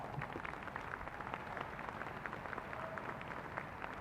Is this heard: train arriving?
no